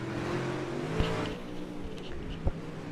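Dirt track race cars in a heat race in a dome, engines droning and revving at a moderate distance, with a couple of sharp thumps and scrapes standing out.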